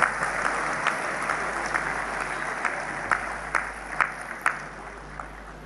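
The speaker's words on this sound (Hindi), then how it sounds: "जरा सभागृह में और तालियां उनकी बहनों के लिए बन जाए" Audience in a hall applauding at a Lucknow urban development anniversary event, dense steady clapping with a few sharper claps standing out near the end, no talking over it.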